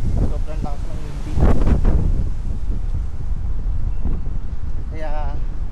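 Strong hot, humid wind buffets the microphone in loud rumbling gusts, with a brief louder surge near the start and faint voices briefly audible underneath.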